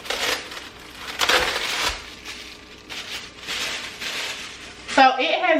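Marinated jerk chicken is unwrapped from its plastic wrapping, producing repeated close crinkling and rustling bursts of plastic, ending with a brief voice at the close.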